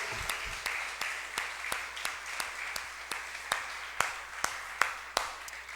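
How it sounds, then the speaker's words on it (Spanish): Sparse clapping from a congregation during a Spanish-language church service, with a few hands striking in a loose, steady rhythm, each sharp clap distinct and fairly faint against a quiet room. "De antemano démosle un aplauso al Señor."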